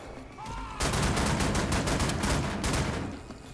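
Sustained automatic gunfire from Wolfenstein: The New Order, a dense loud burst of rapid shots lasting about two and a half seconds before trailing off.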